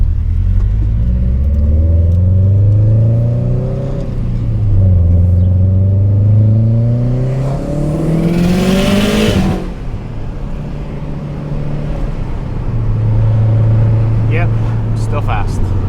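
An STI car engine drones and rises in pitch through several gear changes, a loud sweeping rev near the middle, then settles into a steady cruising hum.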